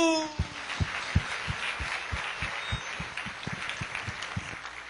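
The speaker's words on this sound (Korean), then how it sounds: "박수!" A church congregation claps in steady rhythmic unison, sharp regular beats filling a large hall, loud and close, with no talking over it.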